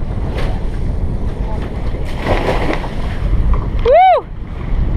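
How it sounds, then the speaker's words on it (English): Strong, steady wind roars and buffets the microphone aboard a sailing catamaran cruising off Florida, with water rushing beneath, while a short rising-and-falling whoop cuts through near the end. "It's windy, really windy."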